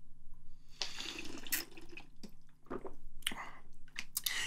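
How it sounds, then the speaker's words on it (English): Water being drunk in several gulps and swallows, with wet mouth and squishy sounds coming in short close bursts and pauses between sips. "follow my lead and drink some water."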